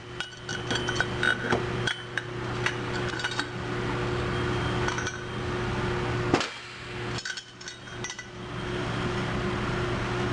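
A fork seal being driven into the lower fork of a Suzuki GS500 with a seal tool and piston, a series of sharp metallic clinks and taps, irregular and close, over a steady background hum.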